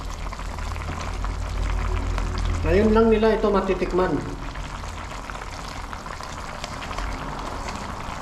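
Water boiling in a pot to soften bihon rice noodles, a steady bubbling hiss that runs throughout while a person talks over it.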